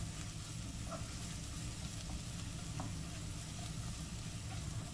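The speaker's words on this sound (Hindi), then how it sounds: "अब इसमें हम लहसुन ऐड कर देंगे और इसको सोते करेंगे जब तक ब्राउन, गोल्डन ब्राउन प्याज और लहसुन नहीं हो जाते" Onion and garlic sizzle steadily in a hot pan while being sautéed for a spicy quail egg masala, a dense, continuous frying crackle with no pauses and no voices.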